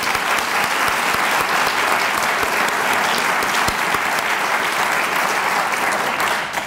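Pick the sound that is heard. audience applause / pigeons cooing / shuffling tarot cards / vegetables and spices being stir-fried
audience applause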